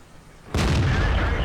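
A single sharp tank cannon blast in World of Tanks erupts after a quiet moment, loud and close, with a rumbling boom that lingers through the rest of the moment.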